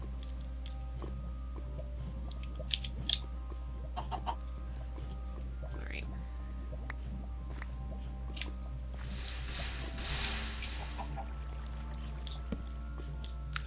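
A Minecraft chicken near lava clucks faintly now and then against a constant low hum, with a burst of hissing noise partway through.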